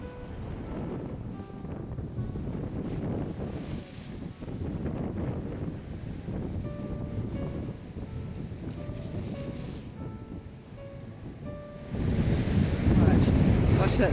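Waves break along the Oregon coast at Yachats, a churning surf wash with wind noise on the microphone, faint tonal sounds mixed in, and a louder surge of crashing water near the end.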